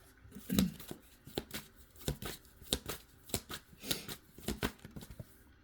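Tarot cards are shuffled back into the deck by hand, a close, quiet run of uneven riffling flicks and taps with no talk.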